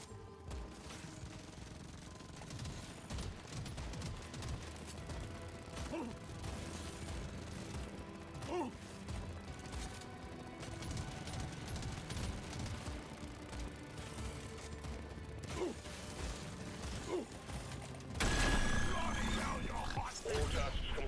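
Rapid pistol fire in the zombie video game Into the Dead, a steady crackle of quick shots woven through dense game action and noise, with a louder burst near the end.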